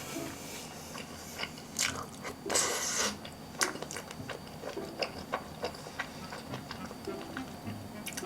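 Someone eats a large homemade omurice, with soft bites, crunches and chewing sounds close to the mic, a few sharper crunches spaced through a quiet room.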